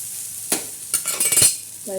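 Bitter gourd masala with red chili and salt sautéing in a pan, with soft sizzling, a few sharp stirring and scraping strokes, and a brief clink near the end, close and moderately quiet.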